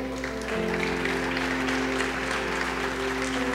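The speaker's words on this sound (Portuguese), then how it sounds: "Dá um aplauso aí" A church congregation applauds during a Brazilian service, a steady wash of clapping under a sustained keyboard or organ tone that rises slightly after the first half second.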